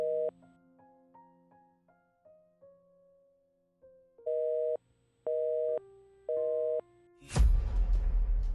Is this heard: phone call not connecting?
yes